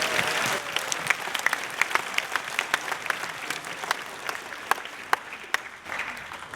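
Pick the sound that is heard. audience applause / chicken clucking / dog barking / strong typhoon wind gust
audience applause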